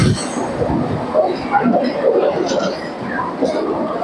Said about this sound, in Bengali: তো বন্ধুরা আমাদের ট্রেন কিন্তু এখন ঢুকছে